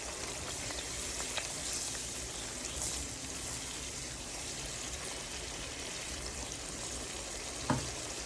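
Tomatoes cut lengthwise are stirred into frying masala in a pan for baila fish chorchori, giving a steady close sizzle with scraping stirs and one sharp clink near the end.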